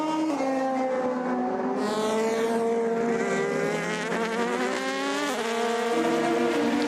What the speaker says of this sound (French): Le passage également de Tatiana Calderon, la colombienne, avec l'Oreca Richard Mille numéro 50 en 14e position.